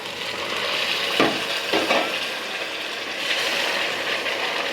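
Pre-heated hot water goes into a pan of frying potato curry (aloo dum) with meat, setting off a loud, continuous hiss and bubbling sizzle with a couple of brief surges partway through and no talking.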